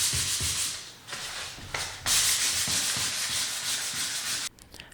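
Previously painted wooden trim being sanded by hand ahead of repainting, with rhythmic rasping strokes, loud and close, pausing briefly between passes and alone without talk.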